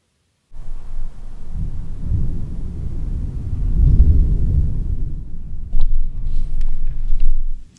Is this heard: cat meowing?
no